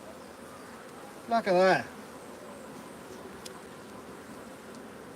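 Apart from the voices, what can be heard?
honey bees buzzing around opened hive supers at apiary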